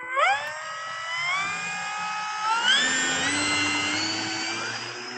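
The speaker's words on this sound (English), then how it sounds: "It's first off some reverse thrust run from the avian speed controller" Electric motor of an E-Flite Air Tractor RC plane on floats spinning up in reverse thrust, a rising whine that climbs in pitch twice and then holds a steady high drone, close and fairly loud.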